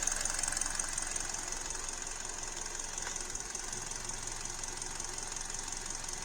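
A Hyundai engine idles with a misfire in the number 1 cylinder from a suspect ignition coil, giving a steady, moderately faint running drone with a slight uneven rattle.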